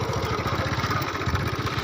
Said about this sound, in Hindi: और ये देखें ट्रैक्टर है